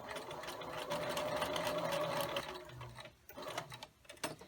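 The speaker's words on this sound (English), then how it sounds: "I'm lining the presser foot up with the line, and I'm stitching a 1/4 inch away" A sewing machine with a 1/4 inch presser foot stitches a quilt block in a steady, fast mechanical whir. It runs evenly at first, then slows into a few short, stuttering runs near the end.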